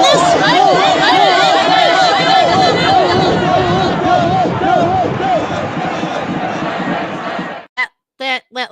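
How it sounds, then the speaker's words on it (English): Loud, dense crowd noise from the January 6th gathering outside the Ellipse gates: overlapping shouting and chatter for most of the stretch, then cutting out abruptly into a few short separate bursts near the end. "That looks like a violent crowd there,"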